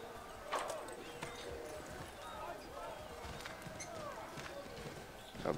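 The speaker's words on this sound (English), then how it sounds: "But if I take a horse." Horse hooves clip-clopping at a run in Assassin's Creed III, a steady galloping rhythm of moderate loudness, mixed with game ambience under a player's voice.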